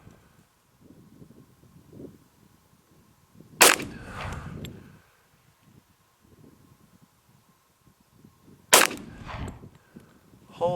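Two sharp Nighthawk 1911 pistol shots fired outdoors on a range, spaced about five seconds apart, each loud crack followed by a brief echoing tail, with faint rustling and low background noise between.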